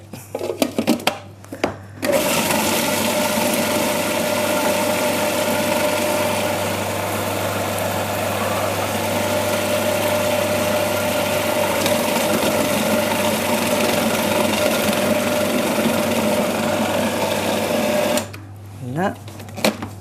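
A restaurant kitchen blender purées butter with a splash of port, running loud and continuous for about sixteen seconds with a steady whirring motor whine, framed by brief clatter and voices at the start and end.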